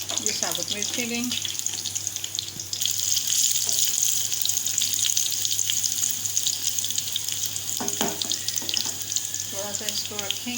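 Whole dried red chilies drop into hot oil in a pan for a Hyderabadi khatti dal tempering, and a loud, hissing sizzle bursts up and holds steady. A voice speaks briefly before and during the frying.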